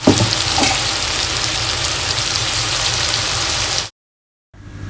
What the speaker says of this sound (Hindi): अभी हम अच्छे तरीके से इसे मिक्स करेंगे और अच्छे तरीके से मसालों को भूनेंगे